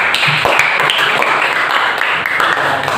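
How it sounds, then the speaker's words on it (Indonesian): Students in a classroom giving a round of applause, loud and close, a dense continuous clatter of many hands clapping for about three seconds with no talk over it. "Oke, beri tepuk tangan."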